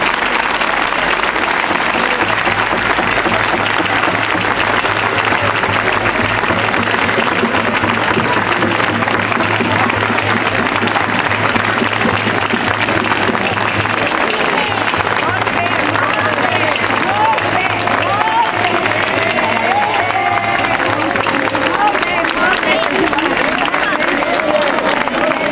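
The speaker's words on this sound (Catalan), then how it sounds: "Un fuerte aplaudiment per a ellos." Large outdoor crowd applauding the La Sotà dance group at a folk dance gathering in Benicarló, a loud, continuous roar of clapping with cheering voices that holds steady for the whole stretch.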